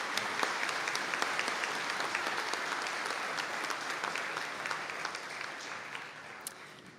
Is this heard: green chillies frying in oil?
no